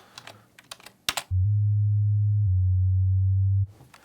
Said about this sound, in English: you can actually draw, pitch bends like this, and Subdestroyer will pay attention to those